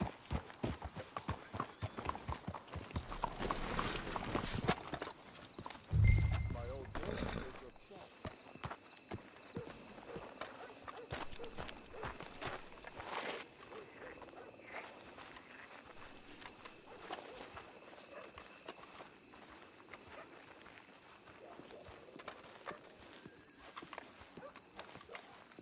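Horses walking in Red Dead Redemption, with hooves clip-clopping faintly under a man's speech and game ambience, a louder rumble early, then a quieter steady stretch.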